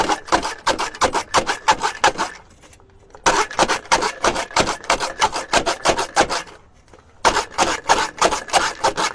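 A manual onion chopper is turned by hand to cut onions, giving bursts of rapid rhythmic clicking and rasping grind, close and loud, with brief pauses between rounds of turning.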